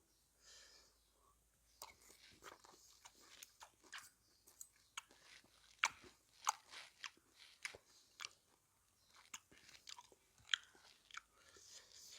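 Close chewing of crispy fried shallots served with spicy oysters, faint irregular crunches and bites spread across the stretch, quiet and mouth-close without talk.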